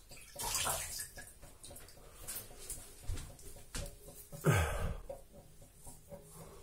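Warm running water rinses a safety razor during a shave with a Muhle R41 and Voskhod blade, giving short splashing bursts and a gurgling swirl near the sink, with quiet movement between.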